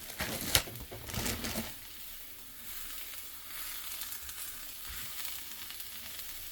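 Beef birria taco frying in a pan until crispy: a soft, steady sizzle with a few brief handling clatters at the start, then a quiet even crackle.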